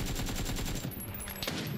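Rapid automatic gunfire in the battle royale game PUBG on Xbox during a bridge fight, a dense fast burst of repeated shots that eases off into scattered cracks near the end.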